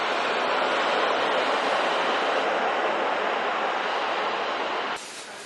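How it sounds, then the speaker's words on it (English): A train near Warsaw rushes past in a loud, continuous roar that holds steady, then drops off abruptly near the end. "There's the train."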